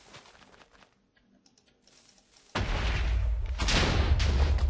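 Minecraft fireworks go off after a quiet stretch with faint clicking, erupting suddenly into a loud, dense crackling burst that swells again and continues close and strong.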